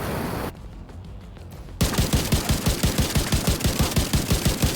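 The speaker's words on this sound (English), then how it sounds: "Trying to shoot their bag." Automatic gunfire in the game Tom Clancy's The Division 2: after a brief muffled lull, a loud, rapid, steady burst of shots rattles on for about three seconds, close and alone.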